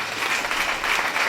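A church congregation clapping together, dense steady applause from many hands filling the room, loud and close, no voices over it.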